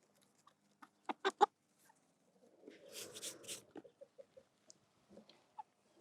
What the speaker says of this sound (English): Oh, it's a good rooster.